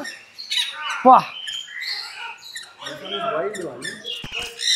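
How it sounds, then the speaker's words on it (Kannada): Birds squawk and chirp in bursts in an aviary at Suggee Resort in Bengaluru, harsh calls overlapping with shrill whistles, close by, with people talking among them. "Welcome to bird ಏವಿಯರಿ."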